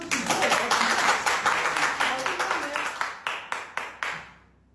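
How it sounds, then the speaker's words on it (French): Audience clapping in a crowd, a dense burst of applause that thins into a handful of separate, rhythmic claps before fading out. "Applaudissez pour ça"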